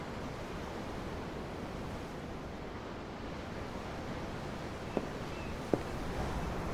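Ocean waves wash in a continuous broad surf hiss with wind across the microphone, steady and enveloping, with a couple of faint brief clicks near the end and no voices.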